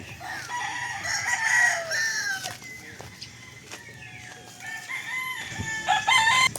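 Chickens and roosters at a small backyard chicken farm, several birds clucking and calling close by, with roosters crowing repeatedly in loud bursts over a steady farmyard background.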